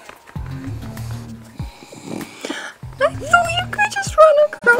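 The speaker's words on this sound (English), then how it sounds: "the snoring is adorable" Snoring heard within a Super Mario Bros game session, rhythmic snorting breaths repeating under lively talk and laughter from several people.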